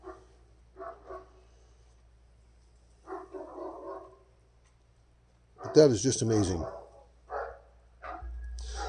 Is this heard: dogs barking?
yes